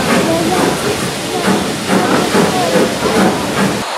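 A Severn Valley Railway heritage steam train runs, heard from inside the guard's compartment: a loud, continuous broadband hiss and rumble with rhythmic surges, close and steady, cutting off abruptly at the end.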